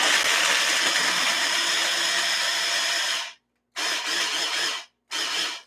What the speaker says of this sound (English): that is the sound of food processing